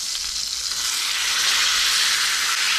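Steak fries in a pan while cooking at a campsite, a loud, close, continuous sizzle with a bright hiss and no talking.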